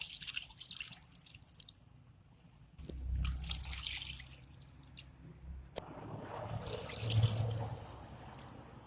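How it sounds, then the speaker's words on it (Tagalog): Water streams from a tap into a cooking pot over a base of seared sardines, with quiet splashing and trickling that swells in two louder surges and carries no talk. "Add 4 cups of water."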